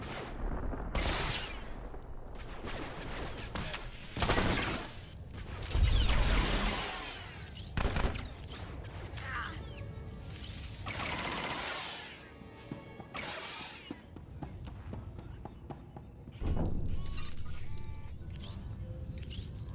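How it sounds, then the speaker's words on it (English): Turret gunfire during combat in Star Wars: The Old Republic, a dense, sustained barrage of blaster-like shots and impacts with sharp bursts throughout, loud and continuous with no talking. "Got turrets beating on me."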